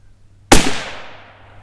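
A single sharp, loud crack from a Howa Mini 6.5 Grendel rifle firing a Barnes 120gr load, close by outdoors, followed by a decaying echo that trails off over about a second.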